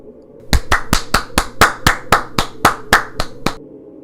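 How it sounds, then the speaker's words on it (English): Hand clapping, twelve sharp, evenly spaced claps in a steady rhythm, loud and close, standing alone against a quiet background. "Clap once for each person."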